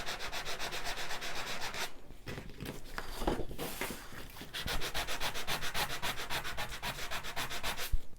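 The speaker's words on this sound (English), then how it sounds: "let's see what happens when it's sanded." Core'dinations sandable cardstock being sanded, a steady run of close, rhythmic scratchy rubbing strokes with a brief pause midway before the strokes resume, loud and alone.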